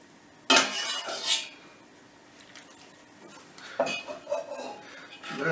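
A ladle scrapes and clinks against a pot as syrup is poured over sweet squash börek, coming in two short clattering bursts with quiet stirring and liquid sounds between them.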